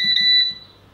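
An air fryer gives short high electronic beeps while its time is being set. Two or three quick tones run into a longer held beep, all close and fairly loud, with nothing else heard.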